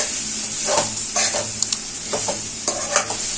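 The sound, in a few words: stirring spices with ginger and chili powder in a frying pan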